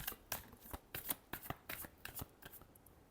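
A deck of tarot cards is shuffled by hand in a quick series of soft riffling bursts, close and quiet, with no speech.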